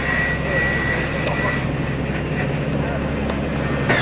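A Focke-Wulf 190 D-13 warplane's piston engine runs on the ground, a steady, loud, broadband drone that fills the whole stretch while people talk faintly beneath it.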